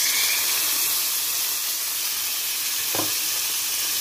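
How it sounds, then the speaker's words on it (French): Salmon sizzles in melted butter in a pan, a loud, steady hiss of frying filling the whole clip, with one brief clink near the end. "Je vais directement rajouter mon saumon."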